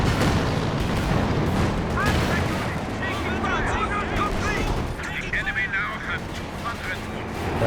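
Katyusha rocket artillery in the video game Company of Heroes 2 fires a rapid volley of whooshing, whistling rockets amid booming explosions and battle noise, under a commentator talking.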